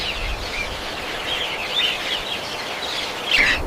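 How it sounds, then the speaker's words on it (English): Green parrots in a desert orchard give scattered high chirps and squawks over a steady outdoor hiss, with a brief louder burst of calls near the end. "A group of green parrots arrives"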